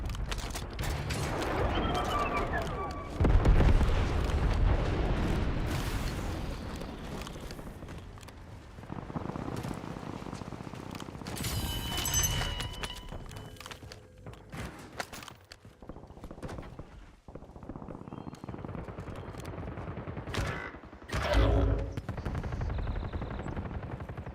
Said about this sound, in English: Painting napalm strike location.